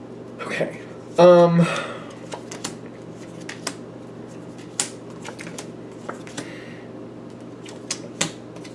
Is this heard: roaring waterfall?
no